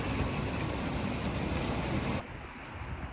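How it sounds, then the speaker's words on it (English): Heavy rain falls steadily on a farm as a dense, even hiss. After about two seconds it drops abruptly to a softer level. "That is a proper rain."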